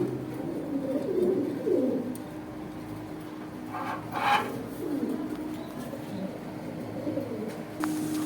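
Danish pigeons at a bird market in Dhaka, soft cooing calls rising near the start and again mid-way over a low murmuring background, with scraping and rubbing noises between them and no clear speech.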